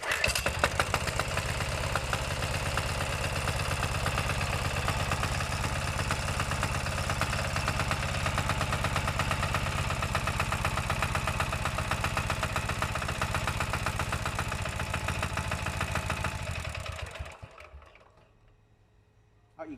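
A KANTO KT-DP30H 3-inch diesel water pump engine runs loud and steady with a dense mechanical chug close by, then cuts out near the end, leaving quiet.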